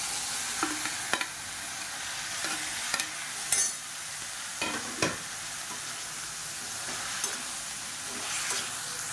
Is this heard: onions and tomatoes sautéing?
yes